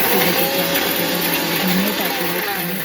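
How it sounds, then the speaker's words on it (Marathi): A mixer grinder runs steadily, grinding a coarse red chilli chutney of ginger, garlic and red chillies, with a loud continuous motor whine and churning throughout, no voices. "चांगलं असं थोडंसं जाडसर त्याला मिक्सरमधून काढून घ्यायचे"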